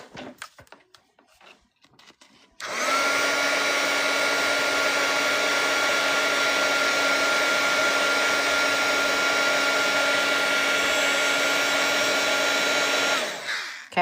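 A hair dryer switches on and runs loud and steady for about ten seconds, drying a freshly painted section of a watercolor painting, then cuts off; light handling noises come before it starts.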